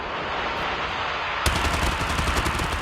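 Gunfire in the mobile shooter Call of Duty Mobile, heard as continuous loud combat noise that turns into a rapid burst of close shots about halfway through, with no talking.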